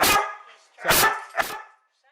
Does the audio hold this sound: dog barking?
yes